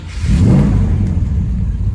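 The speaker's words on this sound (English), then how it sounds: "Starts right up." A 1970 Chevrolet Chevelle with a turbo 350 automatic transmission starts up: a loud, close rumble that swells quickly into a steady idle over about two seconds, with no talking.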